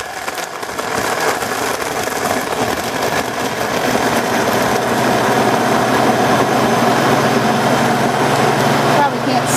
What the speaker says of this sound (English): I believe this is the Hamilton Beach blender